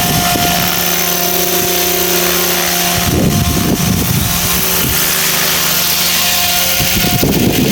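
An EC 135 helicopter on a test flight gives off a loud, steady turbine whine and rotor drone that stays close and continuous, with no talking.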